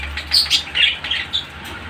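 Budgerigars chirp and chatter in quick, high twittering bursts, close by, over a low background hum.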